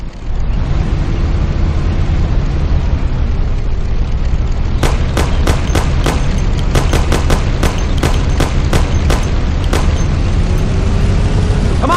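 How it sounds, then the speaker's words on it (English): Thompson submachine gun fire in Mafia Definitive Edition cracks out in loud, sharp bursts of rapid shots during a car chase, over a constant roaring engine and road rumble. "Take my Thompson. You and Sam shoot them."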